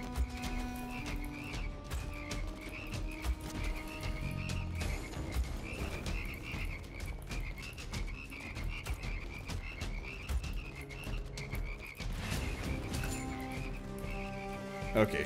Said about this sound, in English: Okay, shit ton of frogs down there.